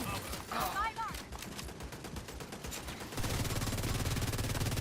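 Gunfire from The Division 2 video game: rapid bursts of shots ring out early, then a dense, loud, continuous fusillade of automatic fire takes over and holds to the end.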